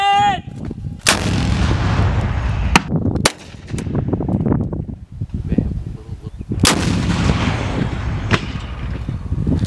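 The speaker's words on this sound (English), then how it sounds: "Back blast area secure! Rocket!" Rockets fired from a shoulder launcher during military live-fire training by French Foreign Legion and Marines, several loud sharp blasts with rumbling echoes and outdoor wind noise between them.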